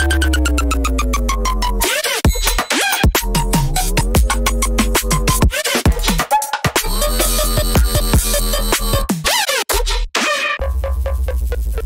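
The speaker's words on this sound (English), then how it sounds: "It's this wavetable that I assume he made somehow, and it's just pitched down really low." A wavetable bass patch, pitched down very low, growls loud and dense in a remix, shifting in texture with short choppy gaps and no voices.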